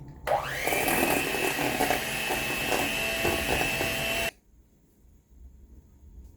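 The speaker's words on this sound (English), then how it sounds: "I'm gonna use my hand mixer to mix this, to cream this together" An electric hand mixer creams cream cheese and butter for cinnamon rolls, starting with a rising whine, running as a loud steady whir with a slight rattle, then cutting off abruptly into quiet.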